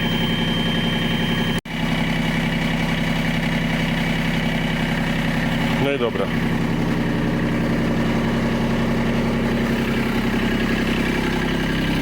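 A small Kubota tractor engine idles steadily and close by, a low continuous chug with a brief click early on and a short voice partway through.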